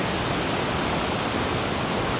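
A hidden waterfall near Lam Takhong in Thailand pours with strong flowing water. It makes a steady, loud, close rushing roar with no pauses and no voices over it.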